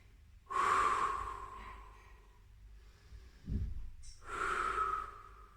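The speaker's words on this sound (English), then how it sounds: "just breathe here for 3 breaths" Deep, slow breaths in a Pilates child's pose, two long airy exhales close to the listener, separated by a short nasal inhale.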